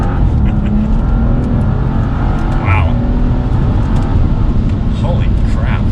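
Loud, steady engine roar from a tuned BMW M235i coupe under hard acceleration, heard from inside the car as it pulls strongly, with people's voices briefly breaking through.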